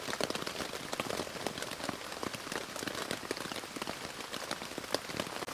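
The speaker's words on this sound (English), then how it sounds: "whilst listening to this rain" Steady rain pattering on a hard surface at a forest campsite at night, dense and continuous with frequent sharp drips, fairly close and even throughout.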